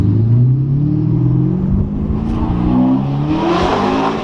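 A Porsche Panamera Turbo fitted with a new exhaust, revving loud and close outdoors, a deep throbbing engine note that swells and dips and climbs again toward the end.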